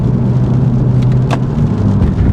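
A steady, deep exhaust rumble from an idling BMW M235i with an N55 engine, valved axleback exhaust with valves closed, and free-flow downpipe, low and even throughout with no revving and no voices.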